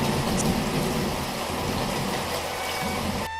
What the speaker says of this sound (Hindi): एक रात बेमौसम बारिश और आंधी आई।